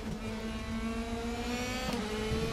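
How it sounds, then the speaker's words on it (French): Race cars in the Raceroom racing game pull away ahead with a steady, loud engine drone and rising whine, one car's pitch shifting near the end as it passes; no talking. "On laisse filer les voitures devant nous."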